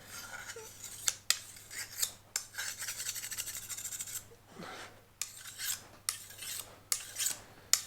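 A finer sharpening stone rasps in repeated strokes along the blade of an old pleaching billhook held in a vise, a steady rhythm of short scrapes heard up close in a quiet room.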